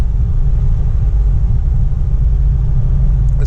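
A 1937 Packard 120 rolls along with a loud, steady low-pitched rumble from its engine and road noise, continuous and close throughout with no voices.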